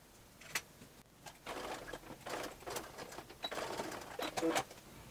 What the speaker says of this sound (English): I'm gonna push some of my lace elastic into that end and sew across just like I did with the other.